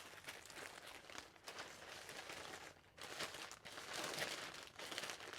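Close crinkling and snipping of plastic as scissors cut through packaging, with rustling bursts and a short pause partway through.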